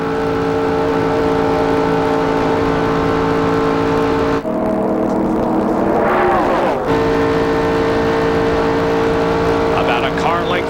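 Stock cars roar through the final lap of the 1996 Goody's 300 at Daytona, a loud continuous engine drone with shifting whine, heard under steady race commentary.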